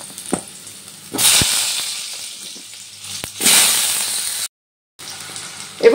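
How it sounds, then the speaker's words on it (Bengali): Cut potatoes dropped into hot mustard oil in a wok, breaking into loud bursts of spitting, hissing sizzle that rise and fade, with a short gap of silence near the end. "এবার আমি যে আলুগুলো কেটে রেখেছিলাম আলুগুলো তেলের মধ্যে দিয়ে দিলাম।"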